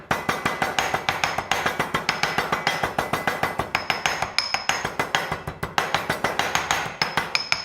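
A pestle pounds lemon zest and rosemary in a mortar, giving a fast, steady run of sharp, close knocks that repeat evenly with no voices.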